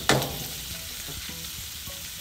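Pineapple fried rice sits frying in a hot pan, opening with a loud burst of sizzle that settles into a steady crackling hiss with small pops, close up and without talk.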